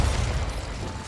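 Bombarda explosion spell in the video game Hogwarts Legacy: a single short, heavy boom with a deep low-end thump that fades quickly, close and loud.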